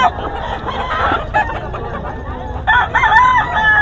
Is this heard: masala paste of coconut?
no